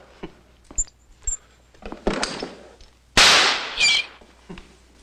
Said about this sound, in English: Oh, it's a nail gun.